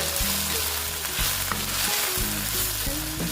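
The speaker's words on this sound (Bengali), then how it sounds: "লতিটাকে আমি ভালো মতন ভেজে নিই" Taro stolons (kochur loti) frying in a pan, a steady broadband sizzle with a hum of tonal background and occasional sharper crackles, close and continuous without talk.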